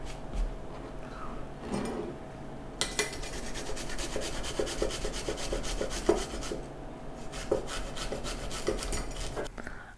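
Fresh unpeeled ginger rubbed against a grater, giving close, quiet rasping strokes that run in a steady repeated rhythm, with a brief pause near the start.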